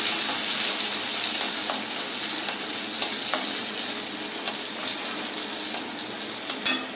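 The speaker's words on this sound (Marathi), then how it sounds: "आता यामध्ये आपण घालणार आहोत बॉईल केलेले वाटाणे। हेही चांगले परतून घेऊया।" Boiled peas sizzle and fry in a pan as they are stirred, a steady close crackling hiss with occasional scraping clicks from the stirring.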